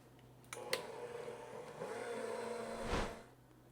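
An egg is beaten into a creamed mixture for a guava pie. A faint, steady motorized whir starts abruptly and holds for a few seconds, swelling briefly near the end before it cuts off.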